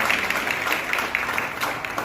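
A crowd at a Hindu religious gathering claps steadily for a couple of seconds, a dense, even patter of many hands at moderate loudness with no break.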